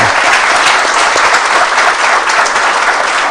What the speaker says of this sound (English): may I just ask all of you to give a little applause to Mano